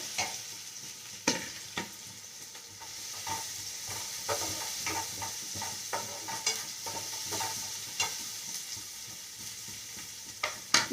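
Chicken sausage frying in a pan with green chilli, a low steady sizzle broken by a run of sharp spatula scrapes and knocks against the pan, close and without voices.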